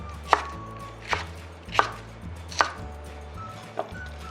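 A knife slices a green onion diagonally on a cutting board, five sharp evenly spaced chops about a second apart, close and crisp over a low background hum.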